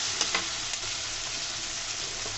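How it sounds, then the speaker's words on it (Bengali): Ginger garlic paste fries with onions in a pan for a fish curry, giving a close, steady hissing sizzle with a few light stirring taps near the start. "আদা রসুনের বাটা, সুন্দর করে পেঁয়াজের সাথে ভেজে নেব যেন কাঁচা গন্ধটা চলে যায়"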